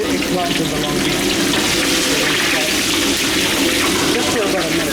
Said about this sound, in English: He's frying the eggplant in the long beans.